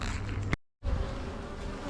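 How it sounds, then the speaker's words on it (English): Honeybees massed on a hive frame of a colony coming out of winter give a dense, continuous close buzz that cuts out briefly before resuming. "there's so many bees on this frame"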